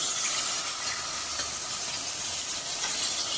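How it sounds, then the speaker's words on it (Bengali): Bhetki fish bones, washed and coated in salt and turmeric, frying in a pan with a steady, close hiss and sizzle that carries on alone without pause. "এগুলো ভালো করে মানে ধুয়ে নুন হলুদ মাখিয়ে রেখে তারপর এটা আমি ভেজে নিচ্ছি"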